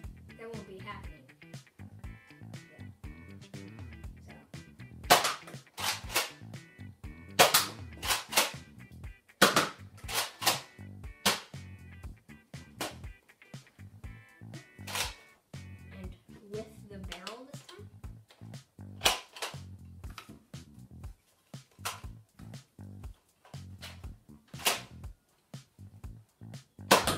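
Nerf Fortnite SP-L blaster pistol fired repeatedly, giving sharp, close snapping pops at irregular intervals, with a person speaking between the shots.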